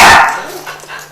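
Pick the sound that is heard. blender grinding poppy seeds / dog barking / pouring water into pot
dog barking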